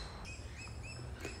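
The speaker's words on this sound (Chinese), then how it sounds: "忽然我就听着头顶上鸟叫，" A magpie-lark gives short, shrill, high calls from overhead, three or four brief notes over about a second and a half, faint against a steady outdoor background.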